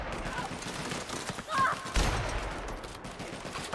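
Sniper rifle fire in The Outer Worlds video game: a couple of sharp, loud shots over game noise, with a voice talking nearby.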